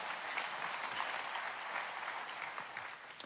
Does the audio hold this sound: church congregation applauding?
yes